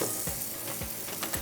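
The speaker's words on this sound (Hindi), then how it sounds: "ये जो तड़का लगेगा ना मक्खन और उसके साथ चीनी का, बहुत मज़े का लगेगा।" Butter and sugar sizzle in a hot pan for a caramel tempering, giving a steady crackling fry with a few soft scraping stirs and no talking.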